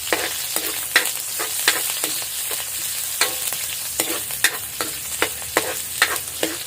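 Garlic and onion sauté in a pan with a continuous sizzle, broken by regular scraping strokes and utensil taps about every half second, loud and close.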